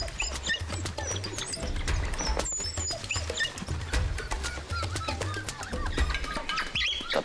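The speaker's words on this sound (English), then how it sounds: "The pups mob these returning adults, making that twittering sound." African wild dog pups twitter and chirp as adults return to the den, making rapid high squeaks over a rumbling outdoor background.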